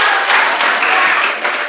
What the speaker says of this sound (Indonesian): Tepuk tangan, tepuk tangan.